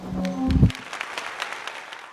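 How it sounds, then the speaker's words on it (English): An audience applauds award recipients at a mentoring celebration, the clapping rising briefly and then settling into a steady, moderately loud patter that carries on for about two seconds. "Let's have another round of applause for this year's award recipients."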